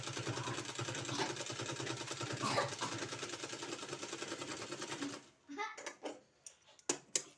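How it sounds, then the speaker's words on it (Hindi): A sewing machine stitches fabric with a fast, steady mechanical whir for several seconds, then stops, leaving a few scattered clicks and knocks. "इसी तरह से पूरे में सिलाई लगा देना है।"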